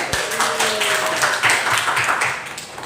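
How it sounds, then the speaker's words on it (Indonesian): A class claps for a student, a short, loud burst of group hand clapping with a few faint tones underneath, fading near the end. "kasih tepuk tangan buat Yusril."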